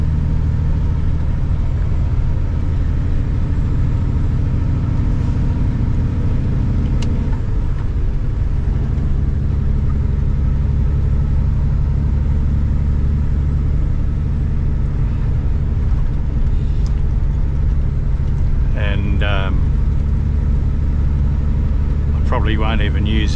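From inside a moving car, a low engine hum and road rumble drone on steadily and loudly, with a few faint clicks and short chirps near the end.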